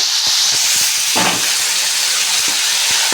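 Finely chopped washed tomatoes hit hot oil in a pan for a spicy stuffed brinjal curry, giving a loud, steady, broad sizzling hiss throughout, with a few small clinks and stirring knocks.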